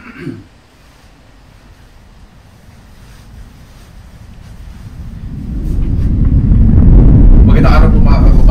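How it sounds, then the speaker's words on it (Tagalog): Very strong wind in a snow storm builds from a faint rush to a loud, roaring gust close to the microphone, and a voice is heard briefly at the start. "Napakalakas po kasi ng hangin."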